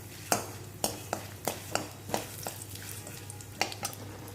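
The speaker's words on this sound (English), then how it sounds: "half a teaspoon of chana dal, allowing it to fry," Half a teaspoon of chana dal fries in a pan for arbi sambar while being stirred. Sharp spoon-against-pan scrapes land at uneven intervals over a soft, steady sizzle and a low constant hum.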